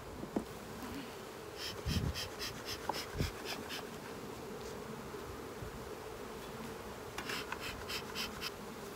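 Honey bees drone softly around an open hive of six frames, a faint, steady buzz with a few light knocks and handling clicks.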